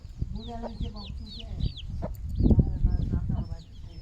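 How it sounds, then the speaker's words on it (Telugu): A hen and her eleven chicks in a village yard: high, repeated chick peeps and a hen's low clucks, with a brief rooster-like call, close by under background voices and rustling. "చూడండి ఫ్రెండ్, కోడి పిల్లలు"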